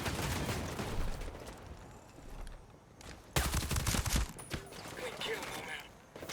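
Automated gun turret in Ghost Recon Breakpoint rattles off bursts of rapid gunfire, dense and loud, with a pause before another heavy volley; voices speak briefly amid the shooting.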